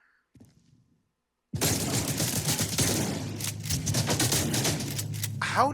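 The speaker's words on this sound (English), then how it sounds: "How did I miss all 3 shots?" Dense automatic gunfire in the video game S.T.A.L.K.E.R. 2 erupts after a brief near-silence, a loud sustained burst of rapid shots and crackling impacts that continues to the end.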